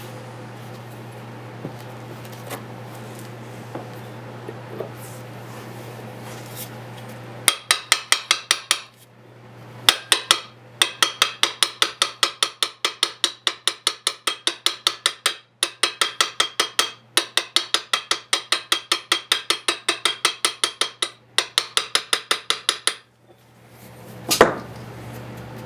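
Rapid metal hammer blows peen rivets on the lanyard tube of a forged 5160 steel full-tang short sword, a long run of sharp, evenly paced ringing strikes with brief pauses between bursts, close and loud with no talk.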